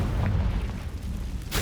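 A Confringo spell explosion in Hogwarts Legacy booms low and rumbling throughout the short moment, with a burst of crackle at the end.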